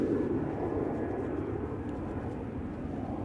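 Embraer E2 jet airliner departing Amsterdam Schiphol for Bergen, a steady broad roar of jet engines heard from a distance, constant in loudness without voices.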